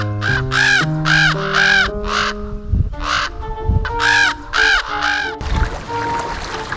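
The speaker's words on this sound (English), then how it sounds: "I was set upon by 3 crows" Three crows caw repeatedly in a forest, harsh loud calls in quick bursts of several caws each, close by, with a few rustling thuds between them.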